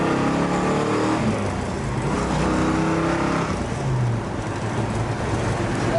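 A 1967 Chevrolet Chevelle SS convertible engine runs steadily at a low idle-like rumble, continuous and fairly loud throughout, with a slight rise in revs near the end.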